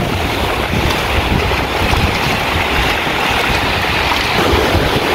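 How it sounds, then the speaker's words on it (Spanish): Strong wind roars across the microphone on a fishing shore, a loud, constant buffeting rumble mixed with surf, with no break and no voices. "ahora hay mucho viento, como pueden notar"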